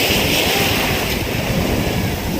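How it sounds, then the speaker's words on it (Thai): Ocean surf at Nuan Beach on Koh Larn, Thailand, where the waves run fairly strong: a steady, loud wash of breaking water with wind rumble across the microphone, no voices. "น้ำหน้าเล่นนะคะมีคลื่น ค่อนข้างที่จะ แรงนิดนึงนะคะ"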